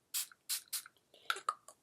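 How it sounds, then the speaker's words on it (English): Short bursts of Too Faced Hangover X 3-in-1 replenishing primer and setting spray misted close up, three quick hissing sprays in a row, followed by a few softer clicks and drips. "This is the Too Faced Hangover X 3-in-1 replenishing primer and setting spray."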